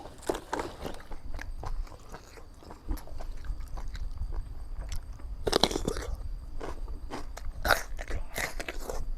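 Crisp, loud crunching as someone bites and chews a fried water lettuce snack, close up with repeated sharp crackly bites and steady chewing throughout, no talk.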